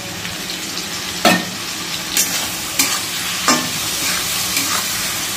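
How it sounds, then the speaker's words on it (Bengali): Spices frying with potatoes in a pan over lowered heat, a steady close sizzle broken by four or five distinct scraping strokes of stirring, with no voices. "এই হালকা ভাবে মশলাটা ভেজে নেব"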